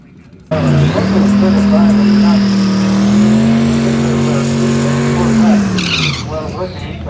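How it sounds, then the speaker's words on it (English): A small car does a tire-squealing burnout at a Cleetus and Cars event in Bradenton, its engine holding a loud, steady high-revving drone with tire squeal for several seconds before easing off near the end. "This guy brought out a funny looking little car and did a bit of a burnout for us"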